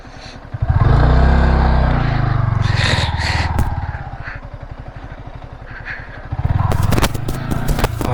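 A motorcycle engine labors and revs as the bike bogs down in loose sand at Therikadu, a red sand desert in Tamil Nadu, loud and close with a throbbing rhythm and scraping clatter, surging again near the end.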